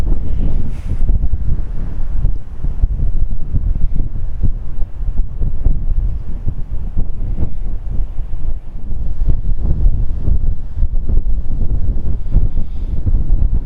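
Strong wind gusts outdoors while a DJI Mini drone flies, heard as a loud, constant low rumbling buffet of wind noise with no voices.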